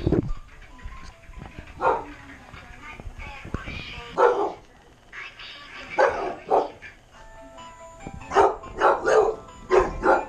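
A dog barks repeatedly in short bursts, fairly close, mixed with voices and other rustling noise.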